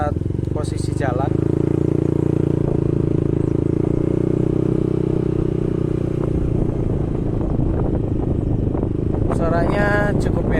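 Yamaha NMAX scooter fitted with a Daytona GP taper slash exhaust, riding along with a steady low exhaust drone and engine hum throughout, plus brief clatter near the start and end.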